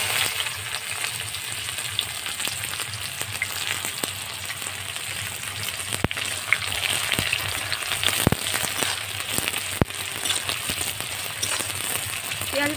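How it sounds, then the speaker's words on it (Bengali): Chopped onion fries in a pan with cloves for a Bengali layered chicken curry, giving a steady, close crackling sizzle with occasional sharper pops and stirring clicks. "পেঁয়াজটা ভাজা হোক"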